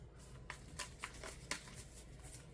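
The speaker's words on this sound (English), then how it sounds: "Okay, let's shuffle." Reading cards are shuffled softly, giving a series of quiet riffling bursts and flicks at an uneven rhythm, close and faint, with no talk.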